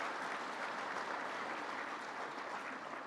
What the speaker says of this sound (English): You could give him a round of applause